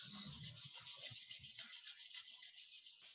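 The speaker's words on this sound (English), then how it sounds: "Rub your hands." Hands rubbing together during a meditation session, a soft, rhythmic swishing of palms repeated over a few seconds, quiet and close.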